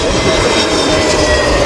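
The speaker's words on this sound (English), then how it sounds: "KLM 195 Nigel Gale from Amsterdam, turning finals over Brixton." A KLM passenger jet arriving from Amsterdam on final approach to Heathrow, its engines producing a loud, continuous roar that stays steady throughout, with no talk.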